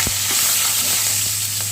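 Black cumin seeds and four green chillies fry in hot oil in a pan, giving off a steady close sizzle with a faint background hum and a few soft stirring knocks.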